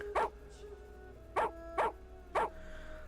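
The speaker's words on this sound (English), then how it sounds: "Boar, stop barking!" A dog in a video game gives four sharp barks, one early and three more in quick succession later, over a quiet low background hum.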